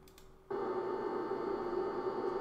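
A steady whirring fan with a constant high-pitched hum switches on and runs loudly and evenly, close by.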